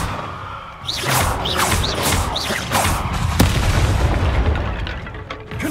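Repeated Confringo spell explosions in Hogwarts Legacy land as heavy booms with whooshing, whistling streaks before them, followed by one sharp crack amid continuous loud battle noise.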